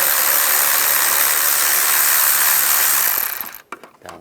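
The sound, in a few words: loosening worm clamps with a 10mm socket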